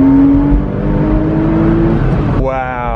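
A Porsche Boxster S engine pulls hard at full throttle with a loud, rising drone from inside the car, then shifts to a higher, smoother note near the end, with voices talking over it.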